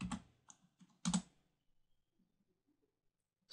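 Short bursts of typing on a computer keyboard while entering a spreadsheet function, a quick cluster of keystrokes at the start, another around one second, then near silence before a final tap; close and fairly quiet, no talking.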